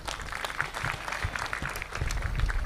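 An audience in a career talk on defence jobs gives a brief round of applause, uneven clapping from a modest crowd in a hall that swells slightly toward the end.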